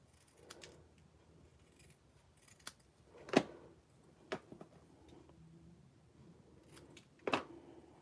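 Cardstock being trimmed for a handmade Stampin' Up! owl gate-fold card, with a few sharp cutting snips and clicks spread over a quiet background, one louder crisp cut near the middle.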